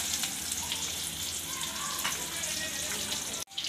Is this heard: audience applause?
no